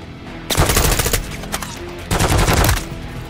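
Rapid automatic gunfire erupts in Call of Duty Modern Warfare 3, with two loud, sustained bursts of machine-gun fire separated by a brief lull, close and dominant.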